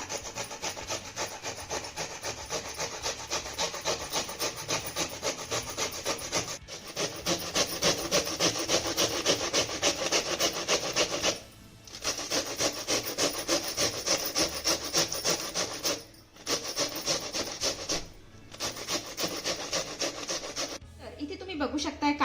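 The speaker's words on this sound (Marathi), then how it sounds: "ही कारली ना किसून घेऊया त्यासाठी इथं मी काय करते छोट्या किसणीचा वापर करते" Bitter gourd being grated on a small hand grater, a fast rhythmic rasping scrape repeated continuously for over twenty seconds with a few brief pauses, close and clear with no talking.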